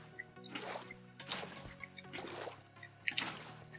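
Water flowing from infinite water sources in Minecraft, rendered as soft, repeated drips and squishy liquid splashes in irregular bursts over a quiet background of low tones.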